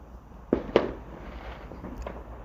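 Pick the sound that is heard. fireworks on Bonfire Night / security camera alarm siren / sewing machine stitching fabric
fireworks on Bonfire Night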